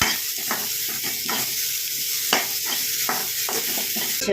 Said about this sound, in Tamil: இப்போ நான் 2 சின்ன சைஸ் தக்காளி எடுத்து வச்சுருக்கேன். இதை போடுறேன். வதக்கலாம்.